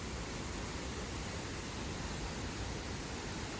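Bao Dai waterfall near Dalat, Vietnam pours in a steady, dense broadband roar, unchanging and continuous, heard from nearby with no other sounds.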